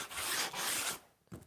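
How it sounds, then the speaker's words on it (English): Sandpaper rubs over splintered wood in a workshop, a couple of close, raspy back-and-forth sanding strokes followed by a short pause and one more brief stroke, no talking. "I'll just shoot a bit of sandpaper."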